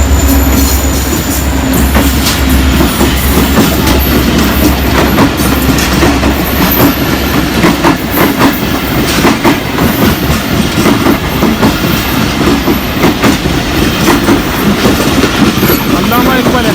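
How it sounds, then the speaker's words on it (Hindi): A Pakistan Railways passenger express train runs past at close range, loud and continuous, with a rhythmic clickety-clack of wheels on rail joints and high metallic wheel squeal over a deep rumble. "ये गाड़ी भी पंजाब का होगा, या हो सकता है तेज़गाम हो"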